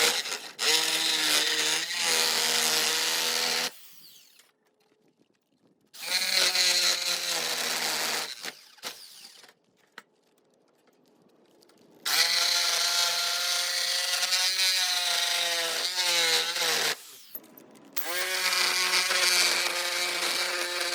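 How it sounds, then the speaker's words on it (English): A jigsaw cuts through a circular wooden coffee table in four loud buzzing bursts, separated by short quiet pauses as the blade stops and restarts. "I was able to start using the jigsaw on the circular coffee table and cut around the rest of it"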